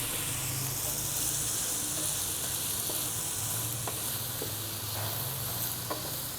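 Frozen peas sizzling and frying with chicken in a hot pan for a Chinese-style chicken rice dish, a steady close hiss with a few faint scrape ticks from stirring, no talking.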